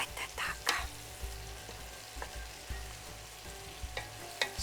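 Liver frying with leeks in a pan gives a steady close sizzle, broken by scattered clicks and scrapes from stirring; no voices.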